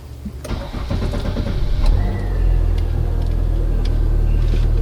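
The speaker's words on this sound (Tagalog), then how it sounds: "I started the engine" A 2022 Chery Tiggo 2 Pro starts up: a few sharp clicks, then a short crank as the engine catches into a steady, close, low idle rumble.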